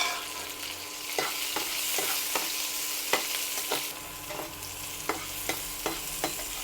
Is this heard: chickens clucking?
no